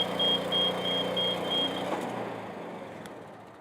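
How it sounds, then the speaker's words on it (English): An Athena 850 HE tracked machine runs with a steady close engine drone and a thin high whine that fades as it drives off, its engine note dropping away toward the end. "So I'll just start the machine, and now as you'll see, I can operate the machine very simply by using those toggles."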